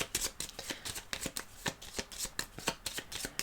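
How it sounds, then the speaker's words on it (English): A deck of game cards being shuffled by hand at a tabletop, a dense, rapid riffling patter with repeated crisp bursts, close and fairly loud, with no voices. "It is time to shuffle our deck."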